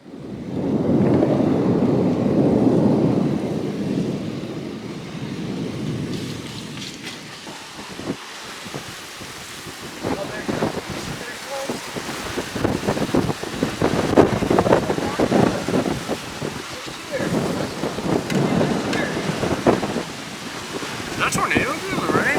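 A Texas thunderstorm ramping up fast, with strong wind roaring across the microphone and low rumbles of thunder, continuous and loud near the start, then gusty buffeting and noise bursts throughout.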